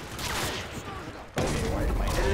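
Automatic gunfire in Modern Warfare 2, bursts of shots and thuds under a busy game mix, growing louder and denser in the second half.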